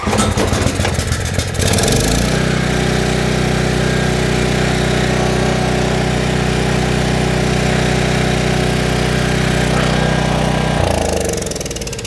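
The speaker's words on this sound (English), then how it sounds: "We're just gonna do a test fire and see what happens." A trash-picked Craftsman 5600 watt generator engine cranks, catches and runs at a steady, loud drone for several seconds before winding down toward the end; close up, with no talking.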